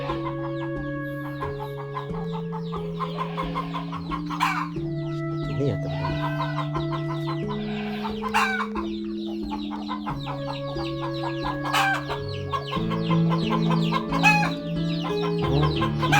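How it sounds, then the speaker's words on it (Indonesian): Javanese village chickens cluck and call repeatedly, with a rooster's crow cutting in, close and lively while someone talks over them throughout. "Nah, itu ayam ya teman-teman ya."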